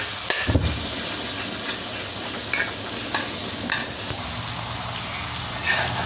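Tomatoes with turmeric frying in a pan sizzle steadily while being stirred, with scattered scraping clicks from the spoon against the pan, close and moderately loud, no talk.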